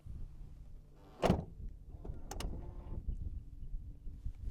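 An Aston Martin DB11 car door swings shut without soft-close assistance, landing as one sharp, close thud. A second quick clunk follows, over quiet background rumble.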